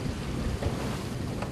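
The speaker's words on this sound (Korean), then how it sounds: "파도에 시달리며 조업이 한창인 원석호." Rough sea and strong wind batter a fishing boat hauling flounder nets offshore. A constant, loud roar of gusting wind and crashing waves fills the scene, with no voices.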